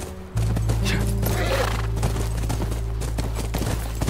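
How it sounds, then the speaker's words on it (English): A horse in the PS4 video game The Last of Us neighs and whinnies near a ranch, with rhythmic hoof clops and a low steady drone throughout, loud and close. "That's our horse."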